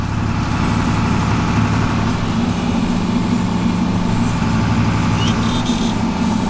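John Deere 4230 tractor engine running steadily and loud at close range while reversing, a constant low diesel drone with no talk.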